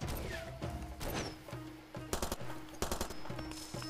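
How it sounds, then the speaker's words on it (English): Rifle gunshots in the video game Far Cry 2, a series of sharp, loud reports fired in quick bursts and single cracks, punching through a steady layer of background game noise. "A little bit of a sound difference between those two rifles."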